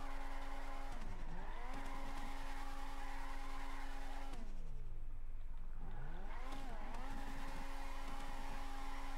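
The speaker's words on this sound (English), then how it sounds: "Rolling burnouts in a circle." Tires squeal continuously as cars do rolling burnouts in a circle in GTA V FiveM drift play, with a steady engine drone and repeated dips in pitch as the squeal sweeps down and back up.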